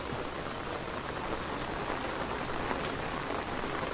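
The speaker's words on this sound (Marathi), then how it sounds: "कारण काय पाऊस पडता ना" Heavy monsoon rain pours steadily in the Konkan countryside, a dense, even hiss of drops drumming on surfaces with no breaks and no voices.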